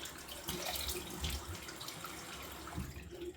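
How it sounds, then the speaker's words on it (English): Running tap water splashes steadily into a sink as a face or razor is rinsed after shaving, a close, continuous, moderately quiet flow. "Right, give it a rinse now."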